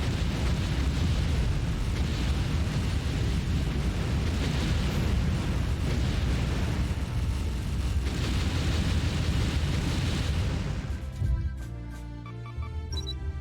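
Warship auto guns in the video game Warship Gunner 2 blaze away in a dense, loud, continuous barrage of rapid explosive bursts that cuts off after about eleven seconds, leaving quieter scattered sounds.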